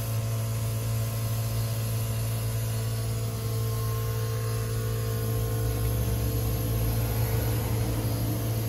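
An air compressor motor runs at home during a flat tire repair, a steady loud hum with a strong low drone and hiss, continuous throughout with no talking.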